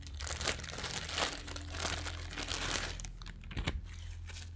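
Tissue paper packed inside lingerie packaging crinkles and crunches continuously, close up, with louder rustling bursts as it is handled.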